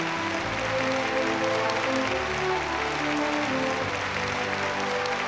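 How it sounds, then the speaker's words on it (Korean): Enthusiastic applause from banquet guests at an inter-Korean summit dinner in Pyongyang, a steady dense wash of clapping that stays even and full throughout, with music or voices faintly mixed beneath. "전체 참가자들은 열광적인 박수로 환영했습니다"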